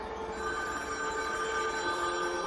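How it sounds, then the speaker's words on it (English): A house telephone rings at around 2 o'clock in the morning, a steady, quiet electronic ring held under a faint background hiss, with no voices. "At about 2 o'clock in the morning, the phone rang"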